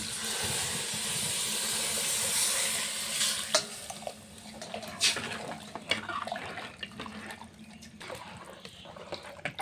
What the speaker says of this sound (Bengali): গরম করে রাখা জলটা দিয়ে দেবো।